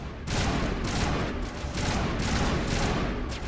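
Continuous heavy gunfire from a Mass Effect firefight, with dense rapid bursts rolling on without pause, loud and close, with no talking over it.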